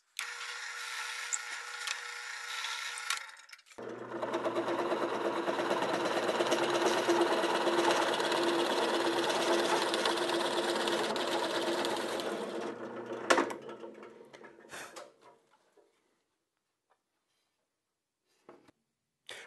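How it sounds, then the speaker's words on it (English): A power saw cuts through a 5/8 inch wooden dowel on a workbench, making a loud, steady whine for about ten seconds before it stops abruptly, followed by a few faint clicks and then near silence. "I've just cut off a little piece of that dowel"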